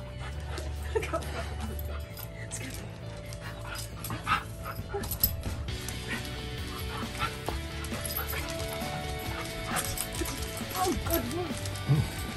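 A husky plays tug, growling and huffing with occasional whimpers and panting close by, while people chatter and laugh over the struggle.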